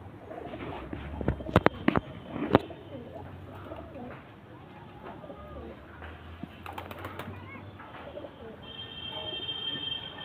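Flock of racing pigeons cooing softly from a loft, low murmuring calls under scattered louder clatters and knocks, with faint background noise and a brief bell-like tone.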